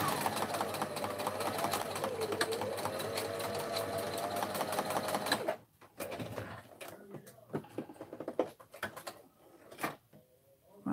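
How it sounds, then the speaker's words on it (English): A sewing machine runs steadily in a fast continuous whir for several seconds, then stops, followed by quieter intermittent clicks and handling noises. "So if you hear the sewing machine go."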